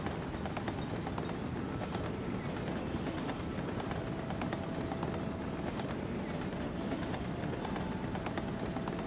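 Trains in the city-building game Workers & Resources rumble continuously as a dense, steady low roar of rolling wagons with faint clicking, heard from a distance without pause.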